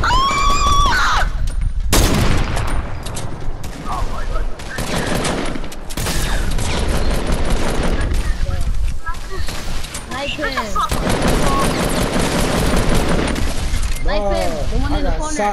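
Bursts of Fortnite gunfire in a squads match, loud rapid shots and impacts crackling through much of the stretch, with players talking excitedly over the shooting.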